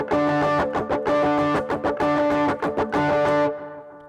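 Electric guitar playing a muted strummed riff with octaves from a song, distorted tone with choppy rhythmic down-up strums and sustained octave notes, ending in a fading ring, close and alone.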